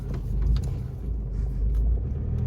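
A car engine idles at low revs through a slow three-point turn, a steady close low rumble with slight swells and no gear changes.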